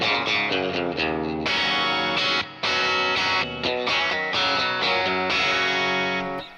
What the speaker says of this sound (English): This is my Voxy sound.